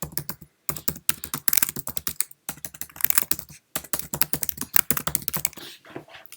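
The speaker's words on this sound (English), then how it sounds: "So let's go within that box and type Computer Science Videos." Rapid typing on a Mac computer keyboard while entering text into a document, with dense bursts of key clicks broken by brief pauses, close and fairly quiet with no talking.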